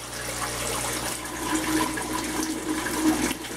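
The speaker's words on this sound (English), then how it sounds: "you'll hear the air start to gurgle," Water gurgles and rushes steadily as air breaks a bell siphon in an IBC tote aquaponics system, air bubbling through it in a noisy, continuous churn.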